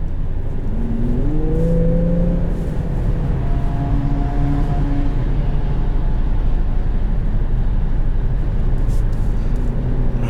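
A 2022 Infiniti Q50S Red Sport 400 cruises along a highway, a constant loud low engine drone and road rumble from inside the cabin, with a few faint rising tonal whirs early on.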